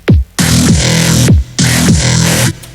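Loud, gritty growl bass made in the Harmor synthesizer, in two long phrases, each opening with a falling pitch sweep and pulsing with a throaty, distorted texture.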